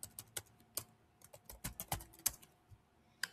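Someone types on a computer keyboard nearby, fast and uneven keystrokes clattering in quick irregular runs with no talk.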